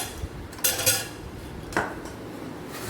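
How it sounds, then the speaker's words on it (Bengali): Ice cubes drop into a container with a few hard clattering knocks, two bright bursts of rattling ice separated by quieter gaps, close and without talking. "এই যে এই আইসগুলো দিয়ে দিচ্ছি।"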